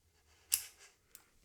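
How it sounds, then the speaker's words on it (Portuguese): A camera clicks as it locks into a Zhiyun Weebill 3E gimbal: one crisp snap, then a fainter second click a moment later, quiet and close, with no voices. "este clique indica que a câmera está presa"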